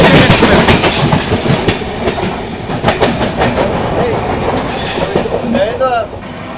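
Paschim Express passing at speed while skipping Mathura Junction, heard from a train on the adjacent track: loud rhythmic clickety-clack of wheels with a burst of squealing, fading toward the end.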